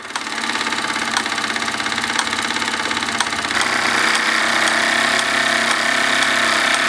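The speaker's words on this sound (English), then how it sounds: "The little Falk driving a four-tool workshop." A Falk 1442 toy steam engine with a single burner runs a small four-tool workshop under live steam, giving a steady, fast mechanical chatter and whir that holds even throughout and grows slightly fuller near the end.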